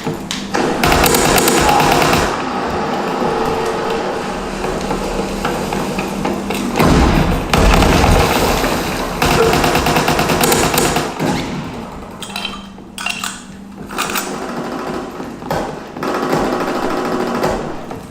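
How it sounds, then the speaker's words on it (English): Enemy mortar fire in a military video game: loud, dense battlefield noise with repeated heavy thumps and impacts running almost continuously, dipping briefly before surging again. "Enemy mortar fire incoming."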